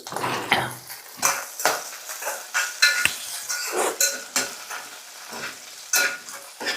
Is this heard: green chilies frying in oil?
yes